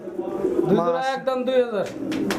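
Racer pigeons coo in low, throaty, rolling calls, close and fairly loud. Two or three bursts follow one another over a couple of seconds.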